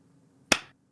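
One sharp hand clap for audio sync on a podcast, close and loud, ringing briefly before quiet returns.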